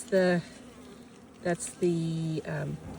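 Close buzzing of honeybees at an open hive in loud bursts that start and stop, with short pauses between passes.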